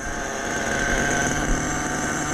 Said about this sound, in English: Now we richen it up and turn the idle up.